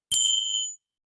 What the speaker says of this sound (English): and the chimes to finish